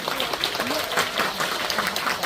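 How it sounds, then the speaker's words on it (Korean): Audience clapping during a comic theater play staging a mock wedding, a steady round of applause with a voice rising briefly over it. "여러분 다시 한번 큰 박수 부탁드리겠습니다."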